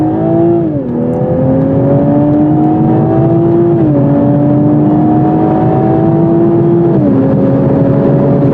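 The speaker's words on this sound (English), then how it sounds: "This 6-cylinder engine's definitely got guts." A 2021 Toyota Supra's six-cylinder engine pulls hard on the road, its note climbing loudly through each gear with two clear upshifts. The rising whine is continuous and close, with no talk over it.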